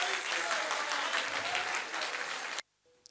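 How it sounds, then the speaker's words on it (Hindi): Dense audience applause at a grand welcome ceremony and religious discourse for Bageshwar Dham Sarkar at Siddhashram fills the room loudly and steadily for over two seconds, then stops abruptly into near silence. "हम सब ताली से उनको सम्मान करते हैं।"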